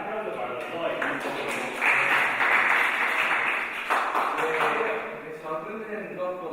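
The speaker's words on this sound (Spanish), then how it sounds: "Ahora un aplauso para los dos." Audience applause for two speakers at an open lecture on small and medium businesses, broad clapping that swells in the middle and fades, with some voices mixed in.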